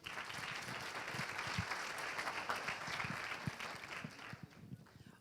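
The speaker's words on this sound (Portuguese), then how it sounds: "Uma salva de palmas, por favor." A round of applause from an audience at a training event, dense clapping at moderate distance that carries on steadily before tapering slightly at the end.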